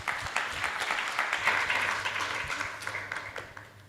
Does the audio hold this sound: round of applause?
yes